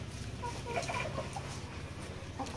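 Fourteen chickens, laying hens kept for eggs and hatching chicks, cluck and call steadily in a coop, several birds overlapping in a continuous close chorus with no talk.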